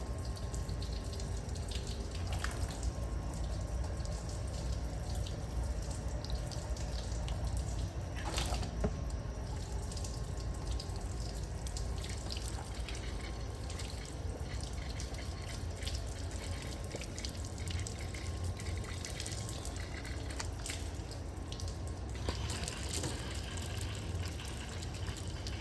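Water sprays and splashes steadily onto a coated glass surface outdoors, a continuous hiss with a few sharper splatters and clicks, no talking.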